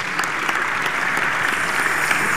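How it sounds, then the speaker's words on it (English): A church congregation at a pastor's birthday public lecture gives a round of applause for the Lord, steady dense clapping filling the hall for a couple of seconds at even loudness. "Let's give the Lord a round of applause"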